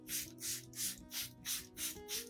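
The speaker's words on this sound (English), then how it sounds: "I also lightly mist my Zamioculcas zamifolia ZZ plant, spraying evenly on both sides of the leaves and along the stems" Spray bottle misting the leaves and stems of a ZZ plant (Zamioculcas zamiifolia), seven evenly spaced soft hissing bursts at close range, with no voices.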